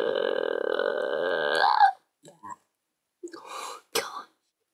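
A drawn-out, loud burp rumbles for nearly two seconds, followed after a pause by a few short vocal sounds and breathy noises close to the mic.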